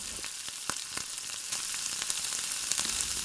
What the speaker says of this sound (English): Take oil and ghee in a wok. Once the oil and ghee is heated,